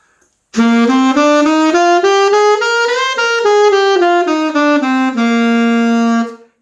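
A saxophone plays a G Mixolydian scale up one octave and back down, each note distinct and steady, bright and close, ending on a held tone.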